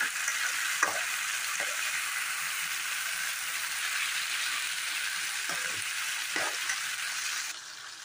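Potato pieces sizzling and frying hard in hot oil with onions in a pan, a loud, steady hiss with a few clinks of stirring, alone with no talk.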